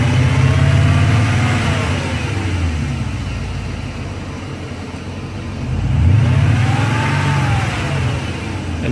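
A BMW car engine is revved twice and the throttle released, rising from a steady idle to a loud close rev that falls back, with no talking.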